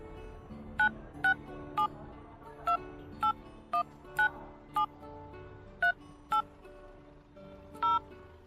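A mobile phone keypad beeps as a number is entered, about a dozen short tones at an uneven typing pace over a faint, steady background.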